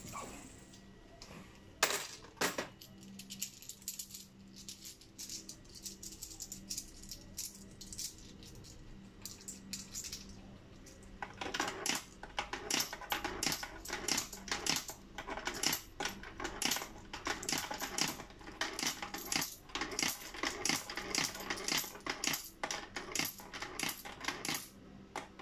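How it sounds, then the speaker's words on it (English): 10-peso coins dropping one after another into a piso wifi coin slot, a long run of close metallic clinks and rattles that grows busier after a quieter start. "so pasok po lahat ng coins"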